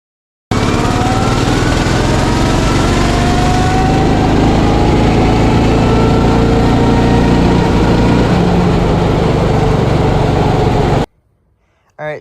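A racing lawn mower engine runs hard and steady for about ten seconds, with a loud continuous drone whose pitch rises gradually, then cuts off abruptly and leaves near silence.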